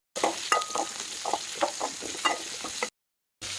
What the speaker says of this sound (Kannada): ಟೊಮೆಟೊ ಇರ್ತೈತ್ರಲ್ಲ ಅವೆಲ್ಲ ಫಸ್ಟ್ ಫ್ರೈ ಮಾಡ್ಕೋಬೇಕು ನೋಡ್ರಿ